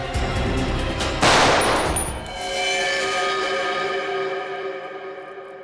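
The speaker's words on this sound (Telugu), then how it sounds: "తుపాకీ పేలింది కానీ నేనెవరిని కాల్చలేదు" A single gunshot bursts out loud and close, then rings off into a long metallic echo and fading tail.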